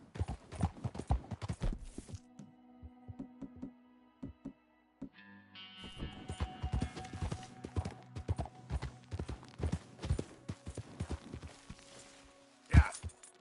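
Horse hooves clip-clop in Red Dead Redemption 2, galloping in quick rhythmic bursts that pause and resume. A faint whinny and some game effects come and go around them.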